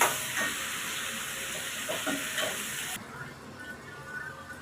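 Crushed shallots stirred and frying in hot oil in a pan, a steady close sizzle with a few scraping stirs, the sizzle dropping noticeably quieter partway through.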